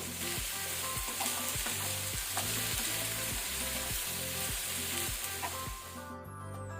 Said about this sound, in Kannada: ಕಲರ್ ಚೇಂಜ್ ಆಗೋ ತನಕ ಮೀಡಿಯಂ ಟು ಹೈ ಫ್ಲೇಮಲ್ಲಿ ಫ್ರೈ ಮಾಡ್ಕೊಳ್ಬೇಕು.